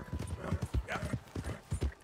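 Horse hooves clip-clop in a quick, uneven rhythm as a horse is ridden in the video game Red Dead Redemption 2, with a brief neigh partway through, moderately close and fairly quiet.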